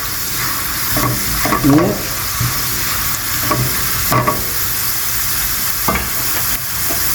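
Pine nuts and onion frying in oil in a pan, a steady sizzle with occasional stirring scrapes and clinks, while a voice briefly speaks a word.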